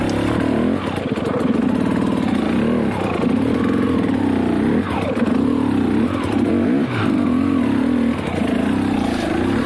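A dirt bike with WP PRO 6500 suspension churns through rough woods terrain, its engine loud and close throughout, rising and falling in pitch with repeated throttle blips over bumps; no voices.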